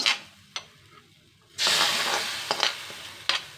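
Hot oil with fried chili powder is poured into a mackerel curry with raw mango, setting off a sudden loud sizzle that hisses on with crackling pops after a quiet start.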